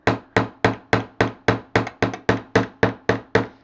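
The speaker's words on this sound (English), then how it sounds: "make sure your curve sits flat on your bench block, and then let's hammer that out" Rapid, evenly spaced hammer strikes flattening a curved wire on a metal bench block for a coiled wire heart pendant, about twelve sharp metallic taps in a steady rhythm, close and clear with no talking.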